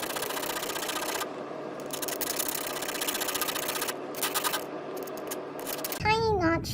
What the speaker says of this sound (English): Tiny notch placed on the side of the penny.